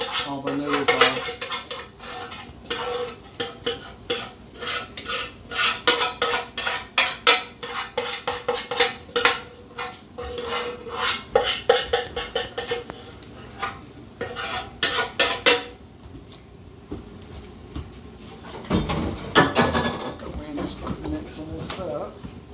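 A utensil stirs chicken alfredo noodles in a pot, scraping and clinking in a busy, steady rhythm. The stirring pauses briefly near the end, then a few louder clanks follow.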